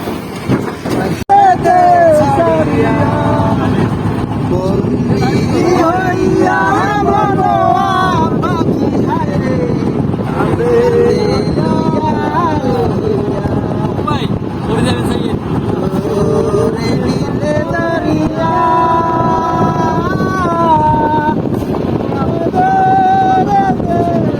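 A boat setting off across Kaptai Lake in Rangamati, Bangladesh, gives a loud continuous engine drone with heavy wind buffeting on the microphone, while people talk and music plays over it.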